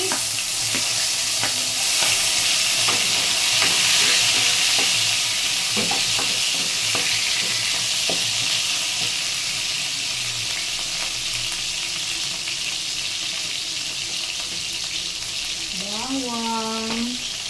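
Tomatoes sizzle and fry in a hot pan as they are stirred, a steady loud hiss broken by repeated scraping clicks of the utensil, with a brief voice near the end.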